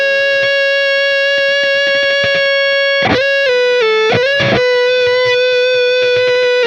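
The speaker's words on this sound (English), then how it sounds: "we have just a little bit of a plate reverb sneaking in just to add a little bit of width and space" A distorted electric guitar played through a Fractal Audio Axe-FX with a touch of plate reverb. Sustained notes and chords ring loud and clear, with a few sliding bends and brief picked accents and no talking.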